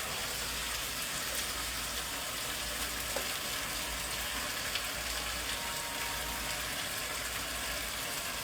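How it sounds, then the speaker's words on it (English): Cabbage sizzles in a hot pan with pork sausage, a steady broadband crackle and hiss that holds evenly throughout with only a few small pops. "And now I'm going to put the cabbage in."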